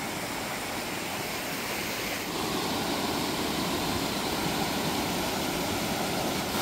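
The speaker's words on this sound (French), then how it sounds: "Je crois qu'on approche de la cascade." A broad, continuous roar of rushing water fills the clip, growing slightly louder partway through, with no voices.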